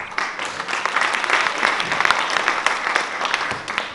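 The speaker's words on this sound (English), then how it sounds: "A big round of applause to the Backstage Samiti for making Vindhya look so beautiful tonight." An audience at a Bharatanatyam dance recital claps enthusiastically, a dense, steady round of applause from a sizable crowd that fills the hall.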